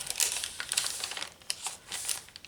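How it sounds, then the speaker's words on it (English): Cheesecloth is handled in a quiet room, giving soft, faint rustling and crinkling scuffs in quick irregular bursts throughout. "This is cheesecloth."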